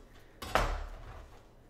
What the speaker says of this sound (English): So just take your knife and start at the top of the rib, and then you can turn it or just finish it out and slice in the opposite direction.